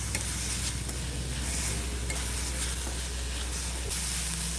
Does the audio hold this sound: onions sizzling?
yes